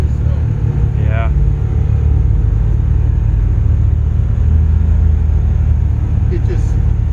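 Can-Am Defender XT HD10 side-by-side pushing through deep snow, a steady low engine rumble droning close and constant throughout, with a person talking over it.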